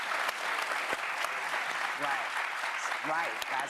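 A studio audience at a daytime talk show applauding, a dense sustained wash of clapping heard from within the crowd, with voices speaking over it.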